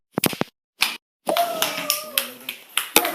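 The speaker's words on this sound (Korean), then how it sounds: "잘했습니다. 박수." Children in a small classroom clap their hands, a few quick sharp claps, a pause, then another burst, followed by a voice talking over sparse claps.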